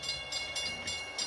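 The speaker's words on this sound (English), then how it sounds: "I could hear the train in the distance now" A train approaches in the distance as a radio drama sound effect, with rhythmic, evenly spaced rushing pulses, fairly loud and without any voices.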